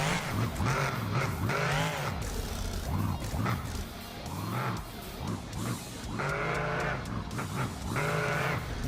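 Vendetta monster truck revving and roaring through a Monster Jam freestyle run, engine pitch rising and falling in repeated surges as it launches over obstacles, loud and continuous throughout.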